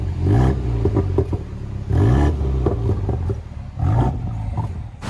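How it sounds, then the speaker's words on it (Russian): A 2019 BMW M135i's active exhaust roars in repeated loud revving bursts, about three surges each rising and falling, with rumbling pops and clatter between them and no talking. "это реально активный выхлоп, который работает, который звучит"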